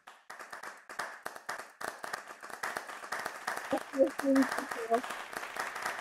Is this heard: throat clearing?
no